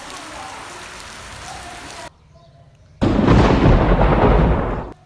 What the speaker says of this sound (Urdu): موسلادھار بارش ہے، تیز بارش ہے۔